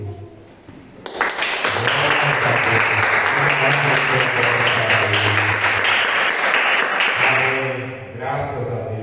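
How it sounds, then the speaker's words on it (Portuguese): Sustained applause from a large church congregation, steady and loud for several seconds before tapering off, with a voice faintly under it. "uma salva de palmas ao Senhor Jesus Cristo"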